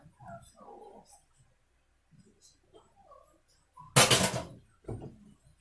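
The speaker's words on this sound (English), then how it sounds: "What you barking at?" A dog gives one loud bark followed by a softer second one, after a few quiet sounds of movement.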